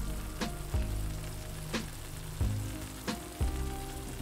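Tomato paste goes into a simmering pasta sauce for tomato basil mozzarella pasta, with a constant bubbling sizzle broken by several soft thuds and scrapes from spoon or stirring.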